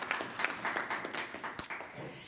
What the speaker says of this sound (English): A big hand of applause for you guys